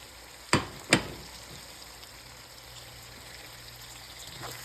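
Minced beef with spices frying in a pan, a soft steady sizzle running throughout, interrupted near the start by two sharp utensil knocks against the pan.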